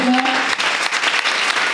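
Audience applause at a church leaders' conference, a dense steady clatter of clapping filling the whole moment, with a brief voice or tone at the start.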